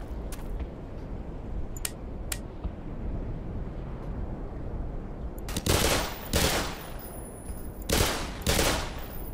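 Gunfire rings out in the game Black Mesa: a few sharp isolated shots early on, then a later stretch of loud, close rapid bursts of automatic fire separated by short pauses.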